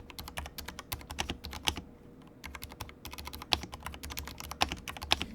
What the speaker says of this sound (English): The typing experience is silky smooth,